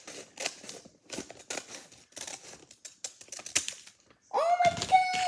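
Scissors snipping open a blind bag package: a run of quick, close crisp cuts and crinkling plastic, then a louder rustle near the end as the packaging gives way, with no talking.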